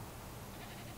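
A goat tied to a stake as bait in The Witcher 3 bleats faintly amid a dense, noisy game background, with no clear talk over it.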